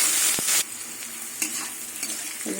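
Capsicum and beans sizzle in oil in a hot pan while a utensil scrapes and stirs, with a few sharp clatters over a steady hiss; no talking.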